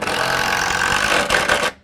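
A power drill drives screws into wooden blocking while a Fypon ceiling beam is installed, giving a loud, steady whirring motor drone for almost two seconds that stops abruptly.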